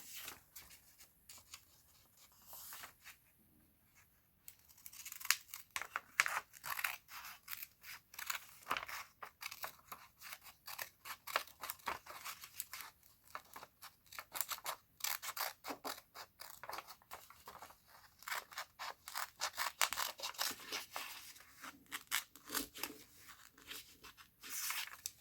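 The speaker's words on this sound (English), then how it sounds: "I'm going to cut with scissors to be more exact" Scissors snip through paper in quick, irregular bursts of crisp cutting, mixed with rustling as a sheet is handled. The sound stays close but quiet, with no talking.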